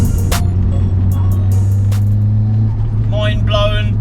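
A 400 bhp Nissan Pulsar GTI-R accelerates hard, its engine holding a loud, steady drone up close throughout, with a brief rising squeal near the end.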